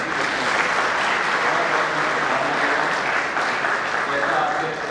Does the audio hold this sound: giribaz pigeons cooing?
no